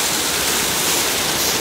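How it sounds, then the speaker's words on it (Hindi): A waterfall in Gole village, Skardu, Baltistan, roars as a steady, dense wash of rushing water, loud and continuous with no break and no voices over it. "ये आप चेक कर सकते हैं जी पानी को, यहाँ से आ रहा है पानी"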